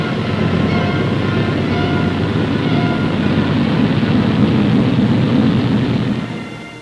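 Drone aircraft landing under ground control, its engine a loud, steady roar throughout before easing off in the final second.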